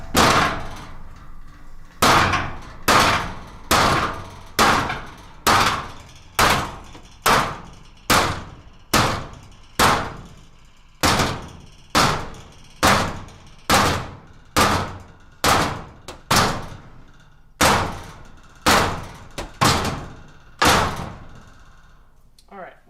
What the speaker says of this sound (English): I'm using this sledgehammer to kind of change the shape of the metal right here.